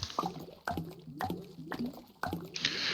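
A building piece splashes into water in the relaxing VR town-builder Townscaper, heard as a few separate soft watery plops and drips spaced about half a second apart, each with a bright splashy onset fading quickly, no talking.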